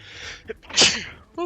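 A single sharp sneeze bursts out mid-session of the card game Path of Champions, loud and close, with a brief breathy exhale before it and a short spoken exclamation at the end.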